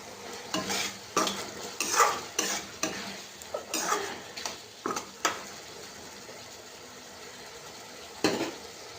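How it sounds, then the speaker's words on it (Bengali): Boiled noodles tossed and stirred in a frying pan, with a soft sizzle under repeated scraping and clattering strokes of a spatula against the pan, irregular and close. "এই যে আমার নুডলস রয়েছে সেদ্ধ করা, নুডলস দিয়ে দেবো এর মধ্যে।"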